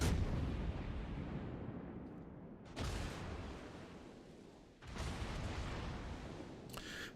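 Heavy naval guns from warships boom in World of Warships during a battle against a North Carolina, three deep blasts each trailing into a long rumbling decay, no talking.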